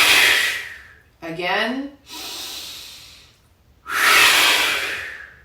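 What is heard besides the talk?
breathing exercise, exhaling out through the mouth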